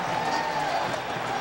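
Stadium crowd at a college football game between UNC Tar Heels and Florida State Seminoles, a dense, steady roar of cheering.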